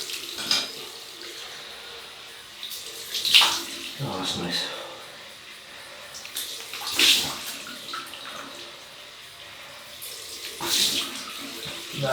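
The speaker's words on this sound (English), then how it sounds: "cold water rinse." Cold tap water runs steadily into a sink for a post-shave rinse, with splashy bursts as hands and face meet the stream, and someone speaks briefly over it.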